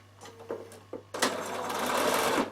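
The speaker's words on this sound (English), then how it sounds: "we're going to sew just inside that stitching line" A Bernina sewing machine stitches fabric, starting with a few short taps and then running into a steady, fast mechanical whir close by, ending with a brief stop.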